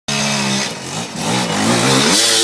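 Pau's motorcycle engine revs loudly and close by in a steady rising and falling drone, with a brief dip before it climbs again.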